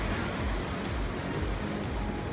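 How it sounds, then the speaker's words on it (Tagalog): Strong ocean waves breaking on a shore where people jog, a steady broadband wash of surf with low rumbling surges, fairly loud and continuous for a couple of seconds with no voices. "rinig nyo yun? Lakas yung alon."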